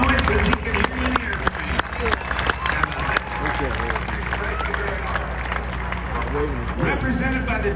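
Air show audience applauding and cheering in a dense, sustained burst of clapping and crowd noise, with an announcer's amplified voice over it.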